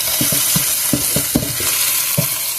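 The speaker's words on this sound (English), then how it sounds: "so I got the chorizo going. I got the bacon in the corner here" Chorizo and bacon frying together in a pan, a steady sizzle with repeated scraping stirs of a utensil, close and alone.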